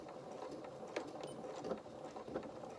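A sewing machine stitches through the foot pad of a soft toy rabbit's limb, giving a steady, fairly quiet mechanical whirr with a few small clicks and bumps along the way.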